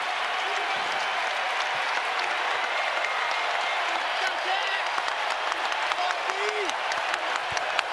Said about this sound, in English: Crowd comes alive here at Rupp